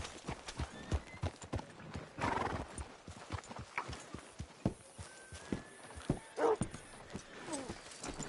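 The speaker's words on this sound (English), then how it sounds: "Hitch your horse up here." Horse hooves clip-clop at a walk with a couple of whinnies in Red Dead Redemption 2, the Western video game, set against outdoor ambience, with the steps fairly close and irregular.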